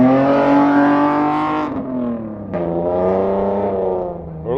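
Race car number 701 revs and drives back onto the track at a CanAm Loveday 400 event, its engine loud and close with a strong whining tone that dips and climbs again between gear changes.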